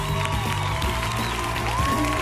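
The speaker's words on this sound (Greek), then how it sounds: "Καλή χειροκρότημα!" Studio audience applause greeting the cast of a Greek satirical comedy TV show: a dense, steady wash of clapping and cheering that fills the whole moment at an even level.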